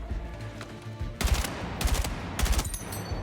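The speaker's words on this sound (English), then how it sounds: "Let's do burst fire, watch this." A rifle in Battlefield fires in three quick, close, loud bursts about half a second apart, each a tight cluster of sharp cracks, with a quieter game ambience between them.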